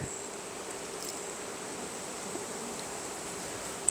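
Steady, soft buzzing of many honeybees close by in a hive, a continuous hum with no talking.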